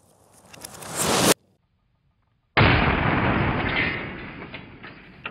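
Powerful firecracker blasting against a computer monitor, a loud close explosion with rising crackle, a sudden cut to silence, then a roaring burst of noise that slowly fades.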